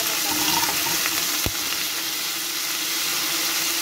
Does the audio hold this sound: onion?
yes